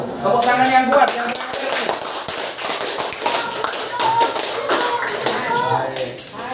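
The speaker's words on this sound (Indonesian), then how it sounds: "Tepuk tangan yang kuat" Students in a science classroom clap in a burst of sharp, uneven taps, with voices talking and calling out over and between the claps.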